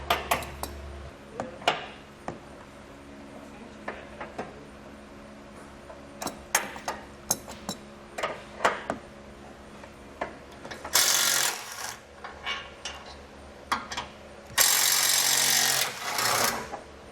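An adjustable wrench works the tow hook nut off a 2019 Jeep, producing scattered metallic clicks, taps and ratcheting knocks at close range, with a few louder scraping bursts near the end.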